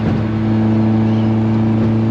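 Loud, steady Nissan 240SX engine drone with strong low harmonics, running continuously close by as the car drives, with rushing wind noise layered over it.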